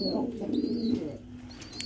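A male pigeon's low, rolling coo sounds up close, with a faint higher chirp drifting in behind.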